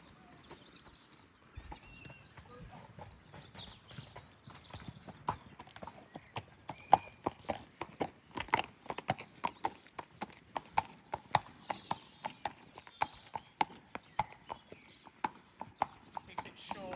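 Hooves of a horse cantering in a jumping lesson beat out a steady, rhythmic clip-clop that grows louder and more distinct as it goes on, moderately close.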